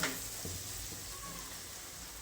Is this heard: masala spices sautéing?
yes